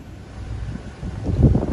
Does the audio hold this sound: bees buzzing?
no